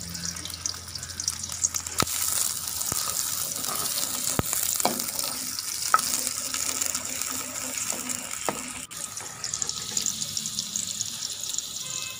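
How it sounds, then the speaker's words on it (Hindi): A steady hiss of onions frying in ghee with scattered pops and spatters, broken by a few sharp clicks and taps of utensils, close by and without speech. "ये घी के अंदर सबसे पहले प्याज डालेंगे"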